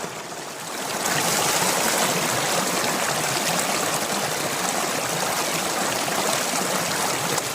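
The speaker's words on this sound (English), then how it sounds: "I'm just going to fill the bottle now." Water bottle being filled from a mountain stream: a steady, loud, close rush of flowing and trickling water, continuous throughout with no talk.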